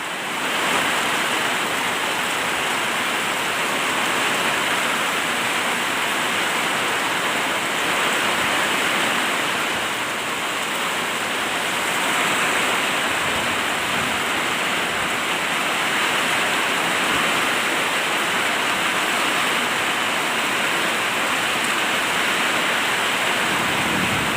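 A loud, unbroken roar of heavy rain and gusting wind, dense and steady throughout, with no talking.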